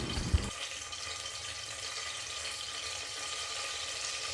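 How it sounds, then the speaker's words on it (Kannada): Bay leaf, star anise, marathi moggu, cardamom and cloves fry in oil over a low flame, a soft steady sizzle after one brief clink at the start, faint and continuous with no talking. "ಪಲಾವ್ ಎಲೆ, ಸ್ಟಾರ್, ಮರಾಠಿ ಮೊಗ್ಗು, ಏಲಕ್ಕಿ, ಲವಂಗ ಇದೆಲ್ಲನೂ ಹಾಕ್ಕೊಂಡು ನಾನು ಲೋ ಫ್ಲೇಮಲ್ಲಿ ಇದನ್ನೆಲ್ಲ ಫ್ರೈ ಮಾಡ್ಕೊತಾ ಇದ್ದೀನಿ"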